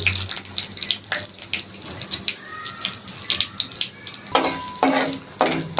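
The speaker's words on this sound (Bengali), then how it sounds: "তারপরে আমি ফোড়ন দেব দুটো তেজপাতা শুকনো লঙ্কা গোটা গরম মশলা এলাচ এবং জিরে" Whole spices, bay leaves and dried red chilies crackle and sizzle in hot ghee, with stirring and scraping in a pan, close and fairly loud, and a burst of stronger frying noise near the end.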